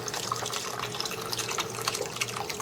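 Chicken stock pours into a pot of jambalaya in a steady, close, continuous splashing stream, with no talk.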